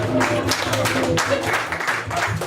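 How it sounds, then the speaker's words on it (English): A round of applause in a school classroom session on Sonic Pi coding, scattered hand claps from a small group close by, mixed with voices talking underneath. "Thank you, round of applause there"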